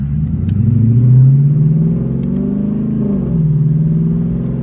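A Lexus IS F's engine revs hard as the car accelerates, a loud, close, deep growl that rises and swells, eases briefly, then climbs again through the gears.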